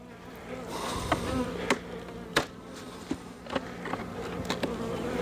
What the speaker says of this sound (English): Nope, there's bees in there.